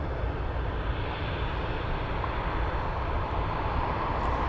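Steady broadband roar of an arriving aircraft at Anchorage airport, a continuous engine rumble holding even and fairly loud throughout with no voices.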